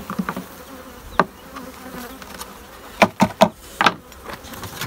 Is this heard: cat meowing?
no